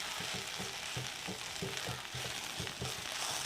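Chicken with coriander powder sautéing in a pan for chicken ularthiyathu, a continuous close sizzle and fry with rhythmic stirring scrapes throughout.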